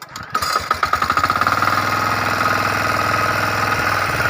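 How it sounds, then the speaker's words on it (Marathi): A Kisankraft KK-IC-406D power weeder's small engine sputters to life with a few rapid chugs, then settles into a steady, loud, close-up running drone. "अशा प्रकारे मशीन स्टार्ट झालेलं आहे"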